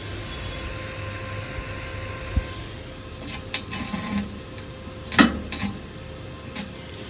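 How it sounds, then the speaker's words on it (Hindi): Arc welding with a repaired IGBT welding machine and lead holder, giving a steady crackling hiss with several sharper bursts and pops over a continuous buzzing hum. "देखिए ये वेल्डिंग हो रहा है।"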